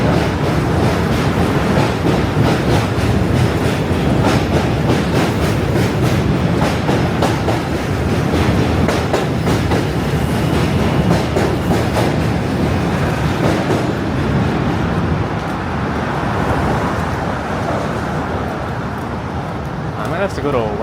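A New York City M subway train rolls past with a steady, loud rumble and rhythmic clickety-clack of wheels on rail, dense and continuous for about twenty seconds, slightly easing toward the end, with some voices mixed faintly underneath.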